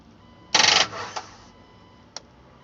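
A 2006 Jeep Wrangler TJ fails to crank: a brief buzzing rattle lasts about a quarter second, followed by a fading click and a second sharp click a moment later, all close up in otherwise quiet surroundings.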